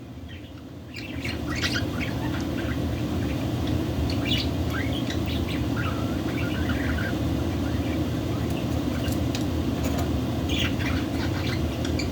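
A baby budgie chirps and squawks close by in short bursts over a steady low rumble of background noise, with a few louder squeaks scattered throughout.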